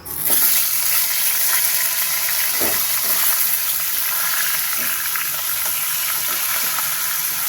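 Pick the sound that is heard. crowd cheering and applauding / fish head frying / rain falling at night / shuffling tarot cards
fish head frying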